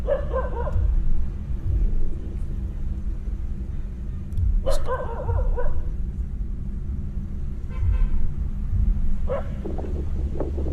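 Several short bursts of dog barking at a distance, spaced apart, over a steady low rumble of wind.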